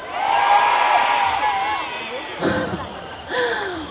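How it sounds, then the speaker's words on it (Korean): Festival audience at the Jangheung Water Festival roaring with cheers and shouts, a broad crowd swell loudest at the start, then two short renewed bursts of whooping near the end. "진짜 함성 소리가 엄청 대단하신데"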